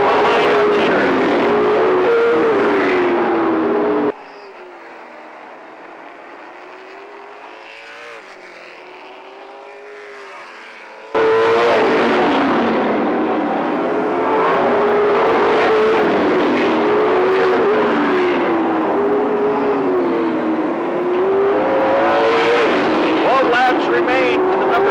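Race cars circling a racetrack during a Blowout day event, a steady loud engine drone with rising and falling pitch as cars pass, briefly dropping away mid-clip before returning, with a commentator talking over it.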